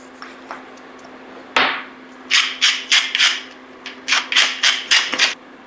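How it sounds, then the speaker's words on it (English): A whisk beats two eggs in a small bowl, giving a quick run of about a dozen close, crisp scraping strokes in uneven bursts after a single louder clack. "So we got our 2 eggs here in a little bowl. First we're going to whisk it."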